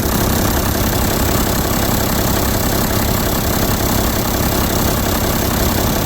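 A Land Cruiser diesel engine idles continuously with a dense, even rumble and no change in pace throughout.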